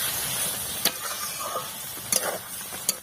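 Vegetarian potato curry (alur dom) with garam masala cooks in a pan, giving a quiet continuous sizzle and hiss broken by a few sharp scraping clicks as it is stirred.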